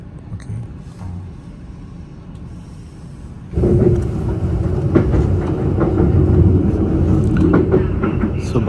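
A passenger train running from Batumi to Tbilisi, heard from on board: a quiet hum, then a sudden louder rumble and rhythmic wheel clatter that continues steadily.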